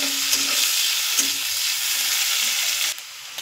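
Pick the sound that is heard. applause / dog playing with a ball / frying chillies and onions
frying chillies and onions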